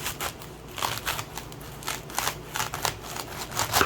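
A knife cutting the cap off a vegetable with its core left in, giving a series of short crisp crunching cuts at close range with no talk.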